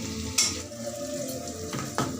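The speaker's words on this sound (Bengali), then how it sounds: "লাল লাল করে একটু ভেজে নিচ্ছি" Onions frying in a pan until reddish, a steady close sizzle with a few brief scrapes of stirring over it; no voices.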